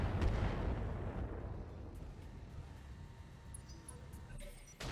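Battlemech weapons firing in RogueTech, a Hunchback mech shooting at a Cronus: a heavy blast at the start followed by a low rumbling roar that slowly fades, with a sharper crack near the end, quiet and with no speech.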